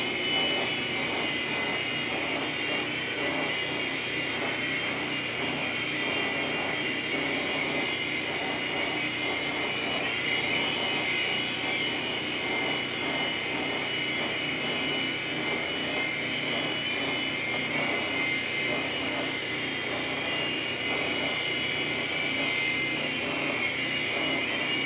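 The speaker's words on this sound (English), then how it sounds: "overall it's a pretty good little helicopter" A LiteHawk II small radio-controlled helicopter flies continuously, its steady high-pitched motor and rotor whine holding at an even, fairly loud level for the whole stretch with no talk.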